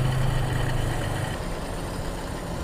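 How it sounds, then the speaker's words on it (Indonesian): Toyota Kijang Super carburetor engine idling with a noisy fan belt, a steady low mechanical hum and whine heard close up with no talking. "Itu suara berisik, ini fan bell"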